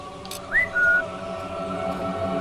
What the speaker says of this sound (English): Who else is whistling?